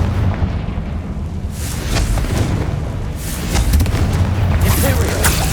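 Spell explosions from the Hogwarts Legacy video game, loud booming blasts and bursts following one another across the clip with no speech.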